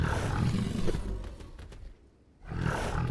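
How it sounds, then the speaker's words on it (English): Saber-toothed tiger roaring in Final Fantasy XVI, a loud, rough sustained roar that drops off briefly near the end before a second deep growl swells back in. "That's a saber-toothed tiger, buddy."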